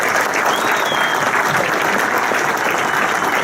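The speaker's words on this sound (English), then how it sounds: "Give the round of applause for this casino in the park." Steady applause from a crowd at a fire department group retirement party, sustained and fairly loud throughout with no pauses.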